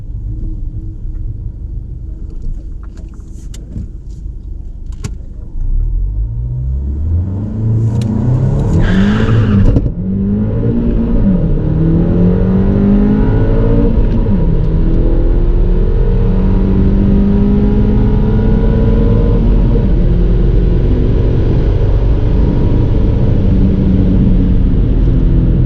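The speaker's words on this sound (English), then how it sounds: "Run number 6, got a lot of wheel spin and axle tramp in first on that run." A Revo Stage 2 tuned car launches down a quarter-mile drag strip with wheel spin and axle tramp. A loud, close engine idles and then roars up through rising revs, and the strained, continuous drone holds to the end.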